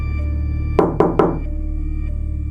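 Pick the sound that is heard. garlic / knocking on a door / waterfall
knocking on a door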